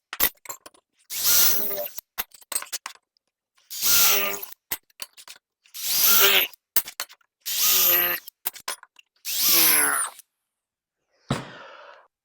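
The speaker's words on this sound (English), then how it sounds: "I'm just going to drill them." A power drill bores holes in small metal pieces for making metal roses, in six separate bursts of roughly a second each, with quiet gaps and small clicks and handling noises between them, then a short final whir.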